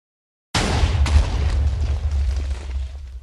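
A TNT cannon in the video game Minecraft detonates after a moment of silence: one sudden loud blast followed by a deep rumbling roar that slowly fades over a few seconds.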